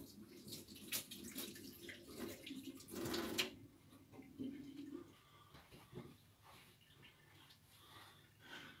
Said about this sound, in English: just let me wash my hands quickly